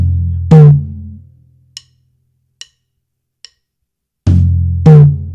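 Two deep, booming hits on a floor tom and a high tom ring out several seconds apart in a drum fill, with a few light, sharp clicks in between.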